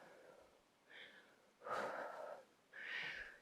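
Breathing during an upper body arm and shoulder workout: a few audible, breathy exhales and inhales close to the mic, the last ones loudest, with no speech.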